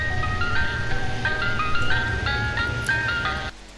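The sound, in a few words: ice cream truck passing by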